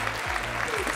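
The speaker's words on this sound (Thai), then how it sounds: "ขอเสียงปรบมือด้วยค่ะ" A studio audience on the Thai fashion competition show Project Runway Thailand breaks into dense, continuous applause that fills the whole second, with a low tonal hum underneath.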